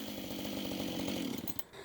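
A chainsaw cuts through a heavy timber log for a mortised corner post, its engine roaring steadily and loud up close for nearly two seconds before the cut briefly eases near the end.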